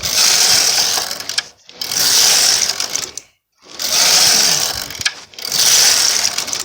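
An SK150/SK155 knitting machine carriage makes four loud, steady mechanical passes, each a whirring, rattling run of a second or two, separated by brief pauses as the carriage changes direction.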